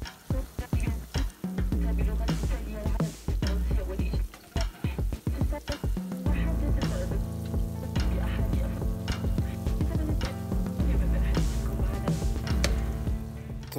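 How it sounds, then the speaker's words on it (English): Banana fritters sizzle and crackle loudly in hot oil, with occasional scraping and stirring sounds over a continuous frying hiss; no voices. "So frying each side for 5 minutes"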